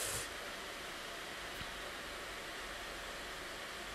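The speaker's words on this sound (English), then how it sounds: "My laptop has been really playing up the last few days, and the fan keeps running." A malfunctioning laptop cooling fan runs continuously, giving a steady, close, broadband whirring hiss with no other sounds over it.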